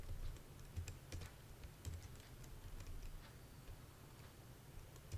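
Light, rapid keystrokes on a computer keyboard while entering data in an Excel spreadsheet, a steady quiet clatter of taps with occasional firmer presses, heard alone with no talking.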